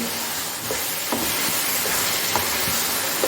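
Sliced ridge gourd and potatoes being stirred in a hot pan, a steady close sizzle and hiss with a few soft scrapes of the spoon against the pan.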